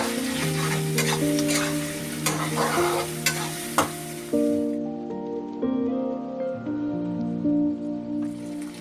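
Chicken pieces being stirred with salt and turmeric in a hot pan, spatula scrapes and soft sizzling over steady background music, the stirring strokes fading after a few seconds.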